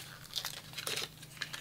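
European candy being unwrapped, a short burst of close crinkling and rustling wrapper noise, a few quick crackles, with nobody speaking.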